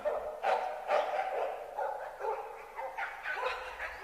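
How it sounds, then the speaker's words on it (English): Several dogs bark repeatedly in short bursts, somewhat muffled as if behind a barrier, with yips mixed in. "There are dogs behind that door."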